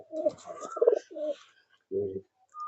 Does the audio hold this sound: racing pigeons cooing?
yes